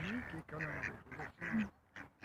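Wild ducks quack on the water in a quick series of nasal calls. The calls are close, fairly quiet and arrive in short bursts separated by brief pauses.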